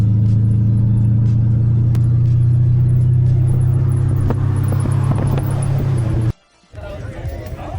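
An old school Chevrolet Impala at Monterey Car Week rumbles close by with a steady, loud low engine drone that cuts off abruptly near the end, with crowd chatter and talk around it.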